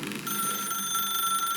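A telephone rings steadily in The Stanley Parable video game, a bright electronic tone held throughout at even loudness, with a faint low background beneath and no talking.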